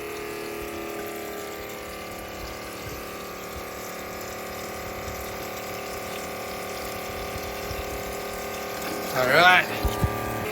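A homemade reverse osmosis unit runs on maple sap in freezing off-grid conditions. It gives a steady pump hum with flowing water throughout, and a brief voice is heard near the end.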